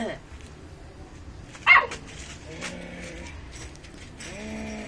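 A single sharp dog bark cuts through, with a few softer yips and whimpers nearby and people talking in the background.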